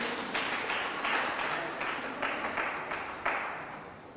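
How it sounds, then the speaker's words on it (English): An audience at a Ghanaian school Bible quiz contest applauds steadily in a hall, a fairly distant wash of clapping that swells in a few waves and runs throughout without speech. "Let's give her a round of applause as she leaves."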